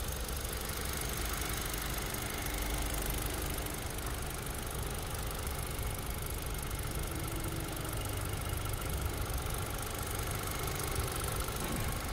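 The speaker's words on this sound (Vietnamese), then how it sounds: "Vâng, tiếng động cơ thì như ru ngủ đây." A 2019 Hyundai Accent with a manual gearbox idles, its engine giving a steady, even drone with a rough mechanical texture, recorded close and continuous throughout.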